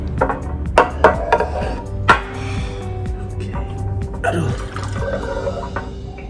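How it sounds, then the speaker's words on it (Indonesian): Water splashes and trickles into a glass syrup bottle, tuned by water level, with a few sharp knocks and clinks early on and a gurgling pour building toward the end, close by under steady low hum. "Lalu kita akan menambahkan air untuk nada re."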